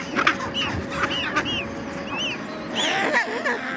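A penguin colony on an Antarctic island during summer breeding season: many overlapping nasal, honking calls rise and fall over a dense, continuous background of distant birds.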